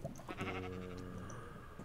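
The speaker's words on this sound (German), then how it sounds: "Oh, Schaf war das, okay." A sheep bleating in Minecraft, one wavering, nasal bleat lasting nearly two seconds, fairly quiet, with game ambience underneath.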